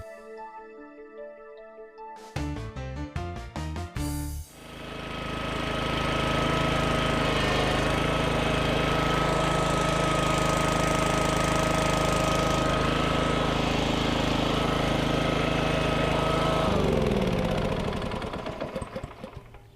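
The EZTC206 power unit's engine cranks over, catches and settles into a loud, steady idle close by, then drops off near the end.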